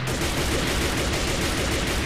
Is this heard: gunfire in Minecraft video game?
yes